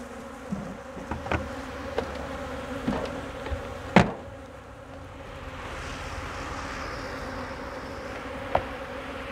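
Honey bees buzz in a steady, close drone while a beehive is inspected and bees are prepared for winter with honey left in the hive, broken by occasional knocks and clicks of frames and tools.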